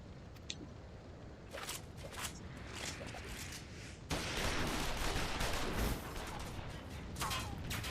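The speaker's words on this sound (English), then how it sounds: "Shoot the bastard! Shoot him!" Soldiers' gunfire in a Final Fantasy XIV Stormblood battle scene, a steady dense crackle of shots that grows louder and thicker halfway through, with no voices heard.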